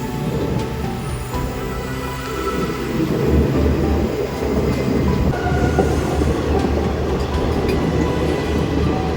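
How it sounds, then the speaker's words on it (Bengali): Ballia Express on the Sealdah–Ballia run rolls steadily along the track, a continuous loud rumble of wheels and carriages with faint clickety-clack, heard close from on board with no voices. "বালিয়া এক্সপ্রেস শিয়ালদা বালিয়া।"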